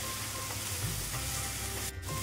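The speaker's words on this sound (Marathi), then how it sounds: "भरीत छान असं परतून घ्यायचंय तव्यावरती पसरून" Eggplant bharit, mashed eggplant with sautéed onion, is being stirred and sautéed across a hot tava griddle, giving a loud, steady, unbroken sizzle with faint scraping underneath and no talking.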